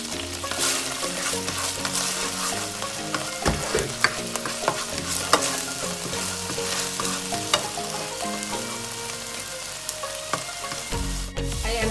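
Garlic sautés in a pan for beef sukiyaki, sizzling steadily and close with repeated scraping stir strokes and occasional sharp clicks, and no one talks.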